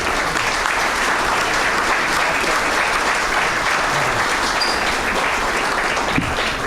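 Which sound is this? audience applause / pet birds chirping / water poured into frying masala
audience applause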